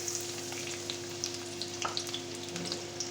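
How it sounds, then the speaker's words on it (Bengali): Chopped onions frying in oil with cardamom, cinnamon and a bay leaf for kofta curry, a steady close sizzle with faint crackles and light stirring clicks, no voice. "পেঁয়াজ কুচি লাল লাল করে ভেজে নেব।"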